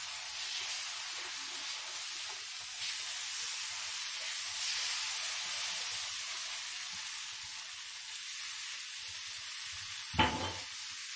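Besan halwa is stirred briskly in a hot pan, making a steady soft frying hiss with faint scraping throughout and one sharp utensil knock near the end.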